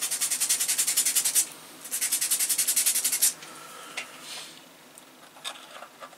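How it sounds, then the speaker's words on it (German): Coarse sandpaper rubbed back and forth on a wooden part of a San Felipe model ship kit by OcCre, two close bursts of quick rhythmic scratching strokes followed by softer handling noises. "Dann nehmen wir mal groberes Schleifpapier."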